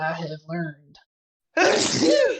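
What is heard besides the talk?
sneeze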